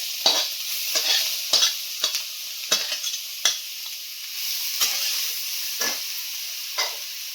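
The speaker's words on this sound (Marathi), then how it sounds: "कढईमध्ये तूप गरम करत ठेवलेले आहे आणि चांगलं असं परतून घ्यायचं" Grated carrots stir-fried in hot ghee in a kadhai for carrot halwa: a steady bright sizzle broken by about ten sharp, rhythmic spatula scrapes against the pan, close up, with no talking.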